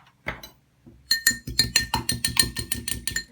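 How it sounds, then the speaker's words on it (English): An egg is whisked briskly in a cup, a fork clinking against the sides in a fast, steady rhythm of sharp taps after a short pause, close and clear. "I'm going to whisk it up"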